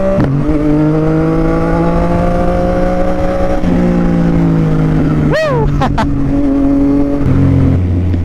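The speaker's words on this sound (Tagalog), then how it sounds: "Ito yung magandang tunog talaga sa 3 cylinder eh, no?" Yamaha XSR900 three-cylinder motorcycle with an aftermarket drift exhaust, idling loud and close with a deep burbling tone, then blipping in a sharp rev that rises and falls before settling back to idle.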